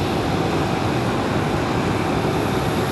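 An American Airlines A321 airliner lines up on the runway at Raleigh Durham International, its jet engines giving a dense, steady broadband roar with no voices.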